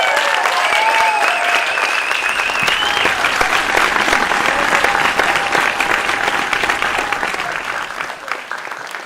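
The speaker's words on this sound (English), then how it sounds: "Round of applause, please." Loud, sustained audience applause at the Miami Web Fest awards for a lifetime achievement honoree, dense clapping from a full room that tapers slightly toward the end, with faint murmurs mixed in.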